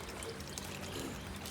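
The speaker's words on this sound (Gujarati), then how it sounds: "ભરાઈ ગયો પાણી." Water pours steadily into a container while plants are being watered at a temple, a continuous rushing, splashing stream with no pauses.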